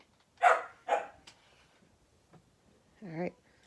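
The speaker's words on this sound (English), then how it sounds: "Excuse the dog barking." A couple of sharp dog barks in quick succession, then a pause and one more drawn-out bark, from a moderate distance in a quiet room.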